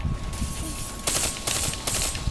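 Call of Duty Black Ops 3 gunfire, three sharp bursts of shots spaced evenly apart, moderately loud over a low game background.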